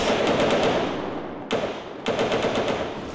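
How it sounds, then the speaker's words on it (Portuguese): Rapid automatic gunfire rattles in a Brazilian shooter video game, with two loud continuous bursts separated by a brief pause. "Esses barulhos de tiro, mano, é muito real"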